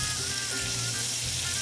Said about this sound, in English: See how nice it sizzles?